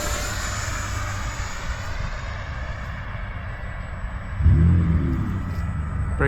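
An FMS F16 64mm electric ducted-fan RC model jet whines steadily overhead as it turns above a field, a mid-distance hum that grows louder and rougher near the end.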